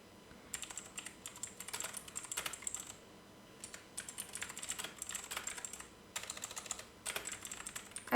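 Steady typing on a computer keyboard at a PC, with close, quick clattering keystrokes in bursts separated by short pauses.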